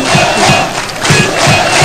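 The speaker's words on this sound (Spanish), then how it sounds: "El público se para de pie, no deja de aplaudir." Stadium crowd at a match roaring and cheering after a spectacular play, loud and dense throughout with surging shouts and applause.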